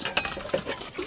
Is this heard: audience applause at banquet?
no